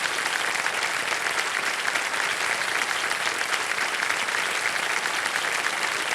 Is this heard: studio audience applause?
yes